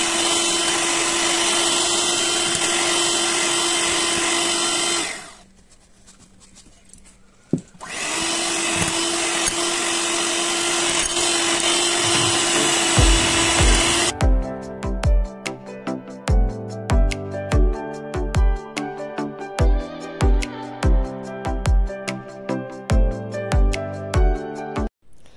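An electric hand mixer whirs loudly and steadily as it beats egg whites with sugar, vanilla essence and salt for a vanilla sponge cake. It cuts out briefly, then runs again before music takes over.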